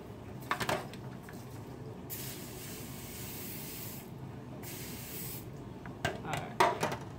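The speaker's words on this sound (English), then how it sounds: "I'm gonna spray it with some cooking spray." Cooking spray hisses into a baking dish in two bursts, a short one then a longer one, close and steady, with quiet clinks of dishes at the start and the end.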